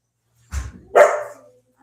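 An excited puppy indoors lets out two quick, close barks, a short low yap followed by a louder, sharper bark, in an otherwise quiet room.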